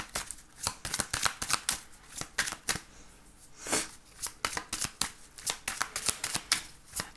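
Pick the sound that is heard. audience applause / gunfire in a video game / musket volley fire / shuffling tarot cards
shuffling tarot cards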